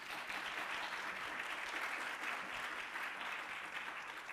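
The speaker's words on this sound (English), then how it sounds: "I think they deserve a round of applause again before we close" An audience applauds at the close of an academic panel on socio-economic rights, with steady, dense clapping that fills the room evenly throughout with no talking.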